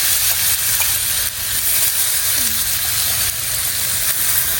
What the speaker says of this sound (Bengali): এবার আলুটা আমি একটু ভেজে নেব এবার ভেজে নিচ্ছি